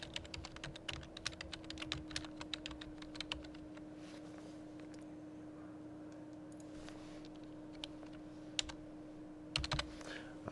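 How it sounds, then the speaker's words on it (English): Rapid bursts of computer keyboard typing as a chart title is entered in a spreadsheet, clicking keys in quick runs with pauses between, close and clear over a steady low hum. "go ahead and type in the title"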